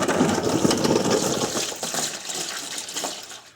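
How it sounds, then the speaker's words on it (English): Coolant drains from the radiator of a Honda S2000 in a continuous splashing, gushing pour, close and fairly loud, tapering slightly toward the end. "So as the coolant drains"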